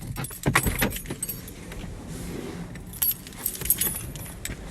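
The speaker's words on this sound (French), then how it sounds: "Attendez, je sors de ma voiture." Keys jangle in short metallic bursts as a person gets out of a car, with a few louder clinks and rustles close by over a quiet background.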